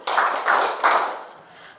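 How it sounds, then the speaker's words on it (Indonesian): A school class clapping hands three times together, three short group bursts of even spacing in a classroom, the last one trailing off into quiet. "Tepuk tangan 3 kali."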